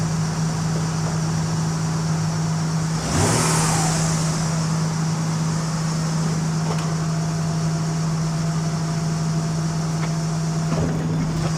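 A 2003 Acura CL Type S drives in forward gear with a steady engine drone and hum, swelling briefly about a third of the way through, then settling back to a constant even tone with no voices.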